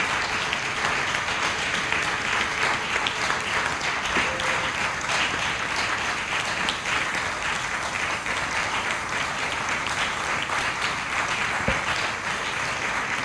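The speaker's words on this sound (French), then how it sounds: "Est-ce qu'on peut acclamer très fort?" A church congregation applauds loudly and steadily in praise during a French-language worship service, dense continuous clapping filling the whole stretch without a break.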